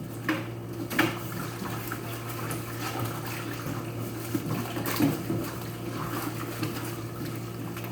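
Water sloshes quietly as an endoscope is cleaned while submerged, with soft splashes around the first and fifth seconds over a faint, steady background.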